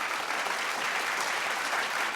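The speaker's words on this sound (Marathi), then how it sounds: "जोरदार टाळ्या झाल्या पाहिजेत." An audience at a women's television contest show claps for the winners, a dense, even burst of applause that holds steady throughout.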